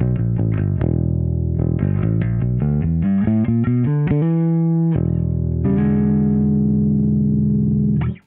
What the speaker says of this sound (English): So we are now running a B7K into the hyperluminal into the element